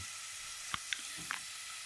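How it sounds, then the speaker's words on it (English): Chopped onions sizzling in hot oil on a gas stove, a steady soft hiss with a few small pops and crackles, close but fairly quiet, with no speech. "Then I will add the chopped onion."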